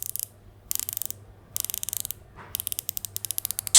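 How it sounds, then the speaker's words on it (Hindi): Aluminium watch bezel on a 316L steel dive watch being turned, giving crisp, close ratcheting clicks in rapid bursts separated by short pauses. "aluminium bezel with 120 satisfying clicks"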